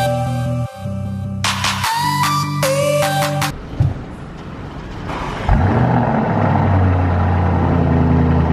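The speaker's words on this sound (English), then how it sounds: "Urus boys are rolling out." A Lamborghini Urus pulls away, its engine rising into a deep rumble after a stretch of other noise, loud and close, then settling into a steady low drone as it drives off, with no voices.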